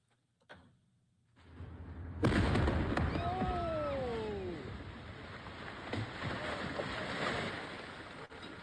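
A house explosion: a sudden heavy blast booms and rumbles on, followed by a long roaring wash of noise with debris-like crackles and a whistling tone.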